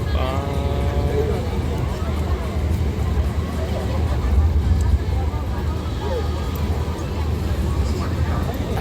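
A loud boat rumbles steadily at the ICONSIAM pier in Bangkok, a continuous low engine drone under crowd chatter and someone talking nearby.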